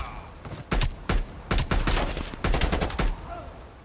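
Bursts of gunfire in Black Ops Cold War: several loud, sharp volleys of rapid shots separated by brief pauses, some single cracks among them, with quieter game ambience between bursts.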